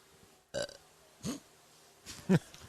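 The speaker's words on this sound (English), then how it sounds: "No, I burped on it." A person burps a few times, short bursts at close range with quiet gaps between them, during a casual podcast conversation.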